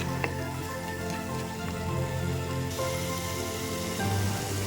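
Chopped tomatoes sautéing in a pan for a Kerala-style fish curry, giving a steady, close sizzle and crackle that runs unbroken throughout with no one talking.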